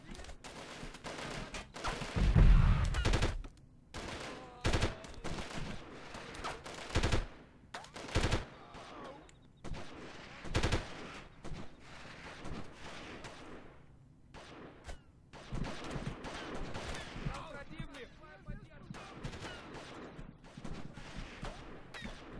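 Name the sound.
gunfire from enemies in the video game Delta Force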